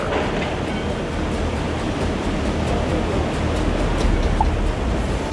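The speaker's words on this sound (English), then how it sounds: "This unstoppable tsunami was the result of a magnitude 9 earthquake in Japan" Tsunami waves from a magnitude 9 Japan earthquake produce a constant, heavy roar of rushing water, a broad loud wash that stays steady from start to finish without pauses.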